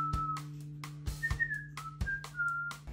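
A pet bird mimics whistling with clear, sustained whistled tones in short phrases, alongside a person's whistling and a steady low background hum; close and moderately loud, with no talking.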